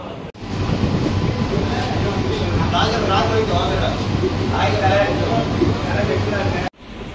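Brand-new AC MEMU electric train in Chennai running into St. Thomas Mount station, a steady loud rumble of wheels and carriage noise throughout with a voice talking over it.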